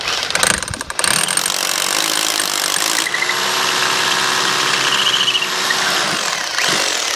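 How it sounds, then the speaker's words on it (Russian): A rotary hammer drills into brick at close range after a brief clattering start, its steady grinding whine holding almost unbroken for several seconds. "Перфоратором сверлим кирпич."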